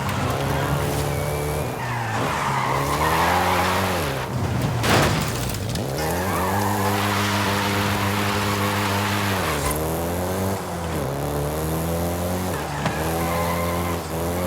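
A Volkswagen Golf GTI races in Forza Horizon 5, set in Mexico. The engine revs and winds up through gear changes while tires squeal and skid loudly and close by throughout, with no voices.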